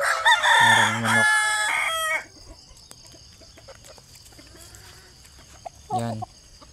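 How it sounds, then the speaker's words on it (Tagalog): A rooster crows loudly at the start, followed by a quieter stretch of background farm noise and a brief clucking call near the end. "maraming manok"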